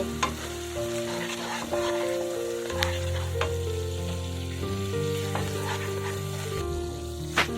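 Steady sizzle of frying in a pan for egg dhokla, with salt and sugar just added and scraped, stirring strokes breaking through the hiss in a few sharp accents alongside a low musical tone running underneath.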